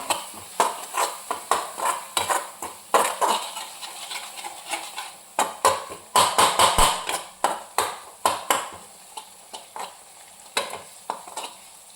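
Kolhapuri chicken masala roasting in oil in a pan until the oil separates, with a steady run of spatula stirs and scrapes against the metal, each stroke bringing a short sizzle, close and fairly loud.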